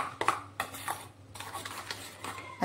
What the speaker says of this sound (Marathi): चांगलं मिक्स करून घ्यायचंय